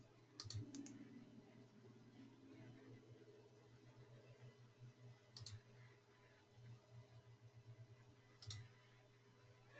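A few sharp computer mouse clicks spaced out over a steady low hum, faint and close, with quiet gaps between them.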